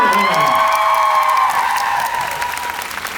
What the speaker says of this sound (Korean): 동의하시 분들 박수 한번 주세요